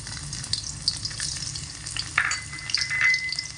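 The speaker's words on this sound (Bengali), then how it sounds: "গরম তেলের মধ্যে দিয়ে দেব এখানে 8-10টা রসুনের কোয়া ছোট্ট ছোট্ট কুচি কুচি করে কেটে নিয়েছি" Eight to ten cloves of finely chopped garlic fry in hot oil, a steady close sizzle with brief crackles and a stirring scrape, and no one talking.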